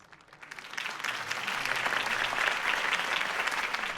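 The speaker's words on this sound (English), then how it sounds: "If only Mr. Wayne, my campaign's largest backer, could have heard that applause" A large crowd in the video game Batman: The Telltale Series breaks into sustained applause after a speech, building quickly and holding steady as a dense wash of clapping.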